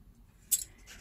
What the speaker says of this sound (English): So I'm gonna just cut from some craft paper.